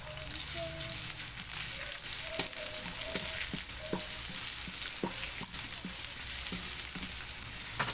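Ginger and onion sauté in a pan as the first step of a native chicken tinola, with a steady, loud sizzle and crackle throughout. Scattered clicks and spatters sit over it, with no talk.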